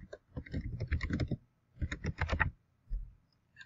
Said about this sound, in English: I'll type my email here